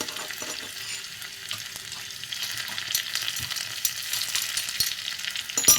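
Garlic tempering sizzles steadily in hot oil for puffed rice bhadang, a continuous frying hiss with a few spoon clicks, growing slightly louder toward the end.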